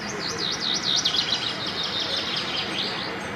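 Birds chirping and singing in a city park during a charity bird festival in Ivano-Frankivsk, repeated rising whistled phrases carrying clearly over a steady outdoor background.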